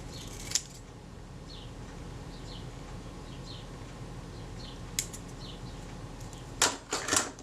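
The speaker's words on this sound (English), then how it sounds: "Now I need to remove this excess tape here." A few sharp snips of scissors cut through excess adhesive tape on a Retina Reflex III camera, sparse at first, then a quick cluster of cuts near the end, in a quiet room.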